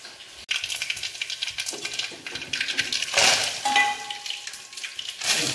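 Tempering (vaghar) of spices dropped into hot oil in a village kitchen, a sharp burst of crackling sizzle after a knock, continuing with spattering bursts and stirring clatter.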